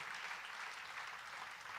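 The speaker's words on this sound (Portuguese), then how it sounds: "Você pode aplaudir Jesus pela vida do apóstolo Paulo?" A church congregation applauds during a sermon. Dense, steady clapping from many hands holds evenly throughout this short burst.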